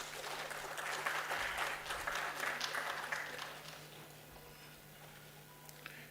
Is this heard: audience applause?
yes